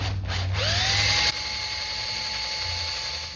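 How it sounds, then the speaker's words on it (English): A power drill spins up with a rising whine, drilling a tiny pilot hole, runs briefly, then cuts out, leaving a fading hum; close and fairly loud. "drill a teeny tiny pilot hole just to get things started."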